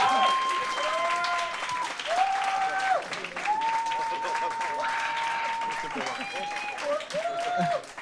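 An audience claps steadily to vote for a contestant on a dating show, a dense mid-level patter running throughout beneath someone speaking continuously.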